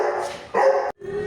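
A dog barks in a couple of short, close bursts, then falls briefly silent before a softer whining sound follows.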